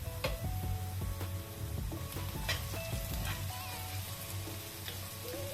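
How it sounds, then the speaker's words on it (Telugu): Sliced onions sizzle steadily in a pan as chili powder is added for a drumstick (moringa) curry, a continuous soft frying hiss with faint stirring clinks, close by and without talk. "ఇదిగోండి ఉల్లిపాయలు వేగినాయండి. దీనిలో మనం కారం వేసుకుందాం."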